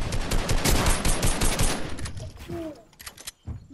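Dense automatic gunfire rattles in a video game, loud and rapid shots for a couple of seconds before thinning into scattered pops and quieter game effects.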